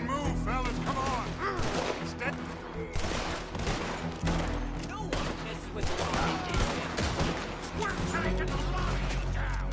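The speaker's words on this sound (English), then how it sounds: "Shoot and move, fellas, come on." Red Dead Redemption 2 video game gunfire crackles as repeated shots through a busy firefight. A voice talks over the shooting, which stays loud and continuous with bursts and steady background combat.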